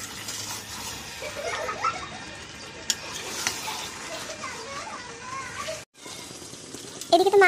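Meat frying and being stirred in a pan together with potatoes in a home kitchen: a steady, close sizzle with scraping stir noises and a brief clink, with faint voices in the background.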